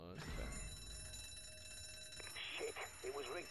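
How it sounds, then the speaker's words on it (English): An alarm bell rings continuously in the Zombi video game, steady and loud from the start, with a voice talking over it in the second half. "it was rigged to the alarm"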